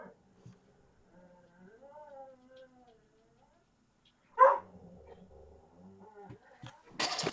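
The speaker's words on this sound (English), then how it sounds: "Sorry, the dog's having a moment." A pet dog indoors at home lets out a sharp bark, followed by faint whimpers, all quiet against a mostly silent room with soft background murmur.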